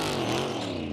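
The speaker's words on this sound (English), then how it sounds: "as Todd Gilliland leaves his pit in the conventional direction" A NASCAR Cup Series race car pulls out of its pit at Homestead-Miami, its engine a steady, dense mid-range drone held at constant loudness for a brief moment, with no talk over it.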